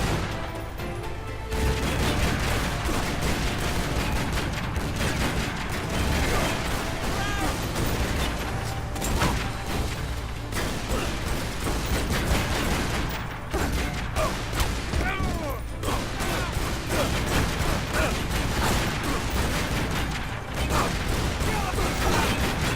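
Desert Eagle pistol gunfire in Tomb Raider: Underworld, dense repeated shots and impacts over a loud game soundscape with clanking mechanisms, steady and close throughout.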